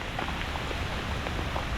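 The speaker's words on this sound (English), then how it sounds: "The downpour has started. It is raining." Downpour of rain with hail during an ice storm in Montreal, a dense steady hiss of drops striking surfaces close by, with scattered sharper ticks and no talk.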